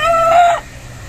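A gamefowl rooster crows once at close range in a breeding area, a loud, bright call lasting about half a second before fading into quiet background.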